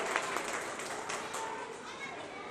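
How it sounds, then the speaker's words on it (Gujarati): Audience applause at a school Guru Purnima celebration, welcoming a student's parents: steady, dense clapping from a crowd, moderately distant and even throughout, with no talk over it. "ખૂબ ખૂબ તાળીઓથી એમને પણ વધાવશો"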